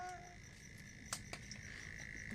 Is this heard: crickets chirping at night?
yes